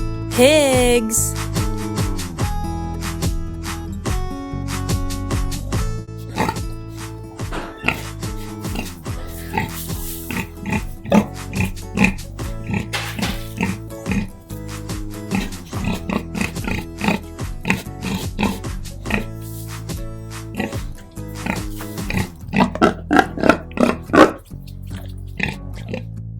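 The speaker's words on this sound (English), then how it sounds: "9 pigs." Cartoon pigs oink and grunt in rhythmic bursts over a bouncy children's farm tune, the snorts clustering louder toward the end.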